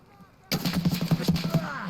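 Rapid gunfire in the video game Escape from Tarkov bursts in suddenly after a quiet moment, a quick run of about nine loud, closely spaced shots.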